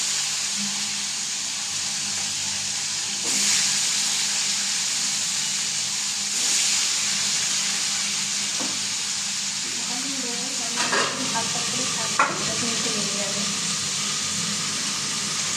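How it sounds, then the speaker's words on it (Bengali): Fish heads in hot oil in a wok hiss with a steady broadband sizzle, joined by a few bursts of spitting crackle and clatter near the end, close and fairly loud. "তেল আমার গরম হয়ে গেছে কড়াইতে আর আমি মাছের মাথাগুলো দিয়ে দেবো।"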